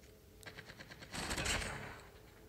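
Gunfire from an MSMC in the mobile game Call of Duty Mobile: a short, faint rattling burst of rapid shots, building into a denser volley toward the middle before fading out.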